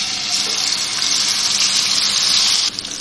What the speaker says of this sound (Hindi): ये पैन में मैंने 3 टेबल स्पून ऑयल लिया है। अब मैं इसमें चिकन डाल रही